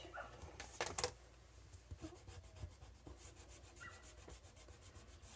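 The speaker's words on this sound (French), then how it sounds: "Je vais venir le gommer tout de suite." A rubber eraser rubbing out a pencil line on paper card, heard as quiet, close, rhythmic back-and-forth scrubbing strokes with a few soft knocks.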